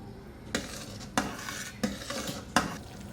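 Sugar and chhena mixture for Multani sohan halwa stirred with a metal spoon in a pan, four distinct scraping strokes at a steady rhythm over a soft sizzle, close and moderately loud, no talking.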